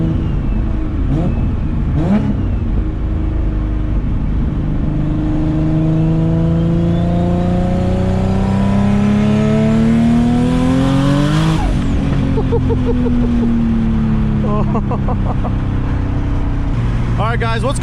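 Big-turbo Infiniti G35 coupe engine revving hard on the road, loud rising and falling harmonic sweeps with a sharp peak around the middle, steady road and wind noise throughout and a voice talking over it.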